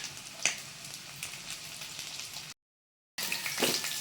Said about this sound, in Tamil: இப்போ தான் வந்து அப்படியே நல்லா ஃப்ரை ஆகுறது ஸ்டார்ட் ஆகுது